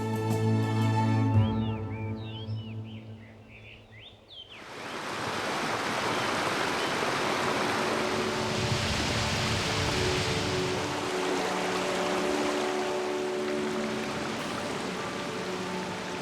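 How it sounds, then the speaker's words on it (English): Mountain streams and cascades in the Minshan Mountains of Sichuan rush in a steady, broad wash of flowing water, loud and continuous after music fades out in the first few seconds. "Countless cascades and streams flow down the Minshan Mountains."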